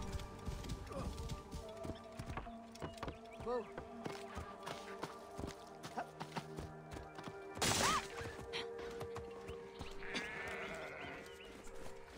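Horse in the Assassin's Creed Origins Discovery Tour, with hoof clip-clops, snorts and animal bleats scattered among ambient game sounds, plus a brief loud burst midway.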